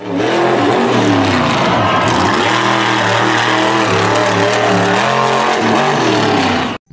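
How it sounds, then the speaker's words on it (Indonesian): A monster truck engine revs loud and close, one steady roar with shifting pitch that holds for about seven seconds and then cuts off abruptly. "Mobil truk monster."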